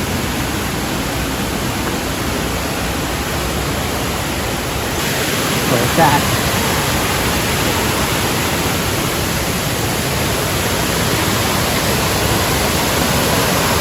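A large waterfall swollen after heavy rain roars below a cliff as a steady, broadband rush of water that never lets up, with a voice speaking briefly over it.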